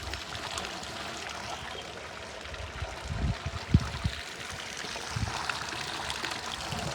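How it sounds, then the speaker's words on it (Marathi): Water runs and trickles steadily into a slurry tank at moderate volume, with a few low gurgling splashes partway through. "आता भरू चालला आहे स्लरीमध्ये पाणी"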